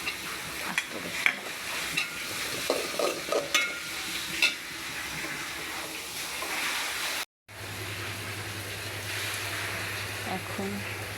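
Whole garlic cloves fry in hot oil in a pan with a crackling sizzle and scattered stirring scrapes; after a brief dropout a steady low hum joins the continuous frying.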